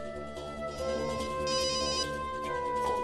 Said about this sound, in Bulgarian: Телефонът.